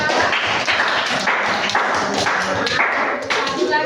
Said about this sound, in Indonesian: Tepuk tangan untuk Okta sih